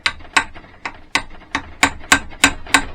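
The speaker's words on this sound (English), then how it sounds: "Got my little chisel punch" A chisel punch hammered into a rusted Metalastik suspension bush on a Greeves scrambler, giving about nine sharp metallic blows in a steady rhythm, close and loud.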